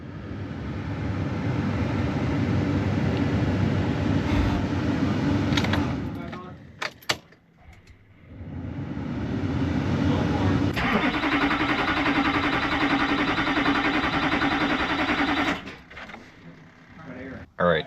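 Duramax LBZ diesel truck engine cranking and turning over in two long, loud attempts, each cutting off with clicks and clunks in between, heard close with no talk.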